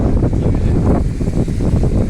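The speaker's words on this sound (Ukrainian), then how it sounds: "Ой, вітер у нас такий сильний." Strong wind buffets the microphone outdoors in Gage Park in Hamilton, a loud, continuous rumbling roar with gusty swells throughout and no voices.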